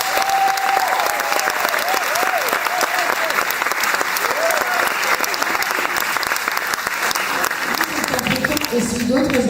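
Warm, dense audience applause for a singer at the musical SOMA, loud and continuous throughout, mixed with crowd voices and scattered cheers.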